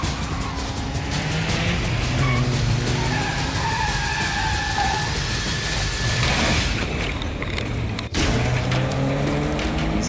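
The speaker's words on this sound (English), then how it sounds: "I was driving that BMW around the streets of Cape Town like a maniac." A BMW skids through a street chase in Cape Town, tires squealing in long loud screeches over the revving engine, with a sharp break and a fresh skid near the end.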